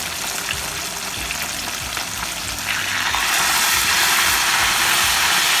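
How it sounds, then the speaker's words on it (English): Whole red snapper fries in hot oil until crispy, giving a continuous, loud, close crackling sizzle that grows stronger partway through. No one speaks. "our oil is hot and our fish is ready to fry"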